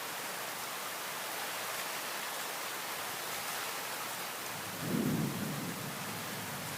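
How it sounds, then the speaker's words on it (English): A thunderstorm in Port Saint Lucie, Florida, with steady rain and a rushing wash of noise throughout, and a low rumble of thunder swelling near the end, with no talking. "But you guys can hear the thunder."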